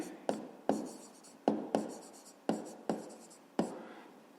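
A pen scratches on notebook paper close by, in seven distinct strokes separated by short pauses, each one a quiet, crisp scrape.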